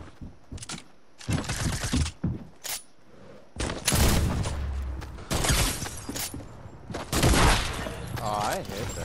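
Rapid bursts of gunfire in the Fortnite battle royale game, loud, close volleys and single shots in clusters with short gaps, a final crack near the end, over game ambience.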